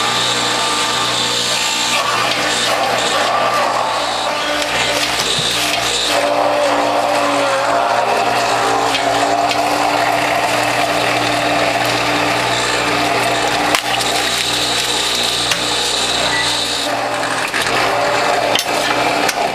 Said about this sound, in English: I can see my motor's working hard